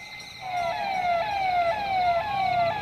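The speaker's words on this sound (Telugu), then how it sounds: "ఒక్కసారిగా ఓ జీప్ సైరన్ మోగుతూ అక్కడికి వచ్చింది" A jeep's wailing siren rises and falls in repeated sweeps, loud and steady, with a faint vehicle rumble underneath.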